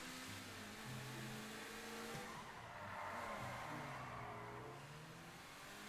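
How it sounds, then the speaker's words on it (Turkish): Car exhaust roaring and revving in GTA 5 Online, a new rear-wheel-drive car, with loud continuous engine drone, shifting pitch and tire squeal throughout, no talk. "Egzozdan çıkan sesler beni benden aldı abi."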